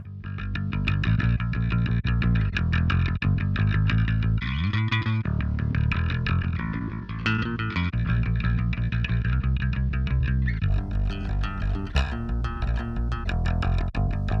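Bass guitar reamped through a distortion pedal during mixing: a thick, gritty, continuous distorted bass line with sustained notes and slides, loud and alone with no talking.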